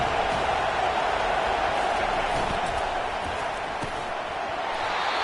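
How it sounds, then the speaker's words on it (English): Stadium crowd at a college football game between Indiana and Penn State roaring on a third-down defensive stand, a dense, steady wall of noise from a huge audience that stays loud throughout. "Decibels rising as the crowd gets behind this defense on third down."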